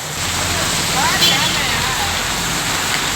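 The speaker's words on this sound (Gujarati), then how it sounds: "ફૂલ વરસાદ ચાલુ હો ભાઈ." Heavy monsoon rain pours steadily over a street in Surat, a dense, loud, even wash of noise with a low rumble beneath, running without a break for the whole stretch.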